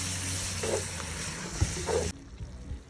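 Onion and meat for bograch sizzle steadily in a pan, with a couple of scraping stirs and a clunk of the spoon before the frying noise drops away.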